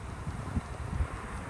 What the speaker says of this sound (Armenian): Մի քիչ քամի է։